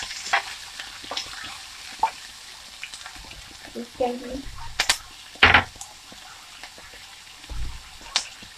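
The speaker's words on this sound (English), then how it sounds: "Like that sauteing." Chopped thyme, onion and sweet pepper sauté in a pot, a steady sizzle broken by spoon scrapes and stirs, with a couple of louder clatters and some background talk.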